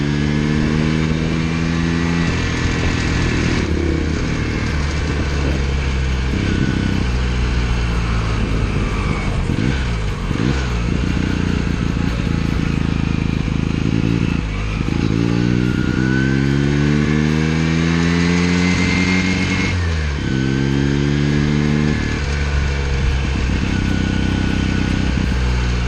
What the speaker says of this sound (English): Hear a little bit of engine noise when they idle